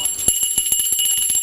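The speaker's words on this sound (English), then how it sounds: "Austin, let's get the bell going." A bell on a morning TV show rings in rapid repeated strikes, a fast even clatter like an alarm bell, loud and continuous against a high steady studio tone.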